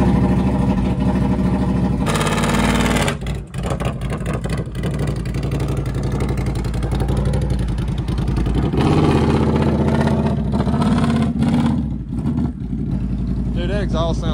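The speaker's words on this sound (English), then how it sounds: "Dude, that exhaust sounds so good." An off-road vehicle's engine and exhaust run continuously and loudly at close range on a trail, with a steady rumbling drone and a brief dip before rising again, while people talk over it.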